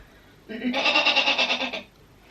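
A person imitates a goat, producing one loud, wavering nasal bleat lasting about a second and a half, close and alone.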